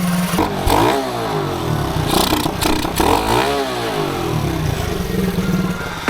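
A Kawasaki Teryx side-by-side fitted with a 125cc four-stroke Honda engine revs hard and steadily up close, its loud buzzy motor rising and falling through several throttle blips with rattling clatter.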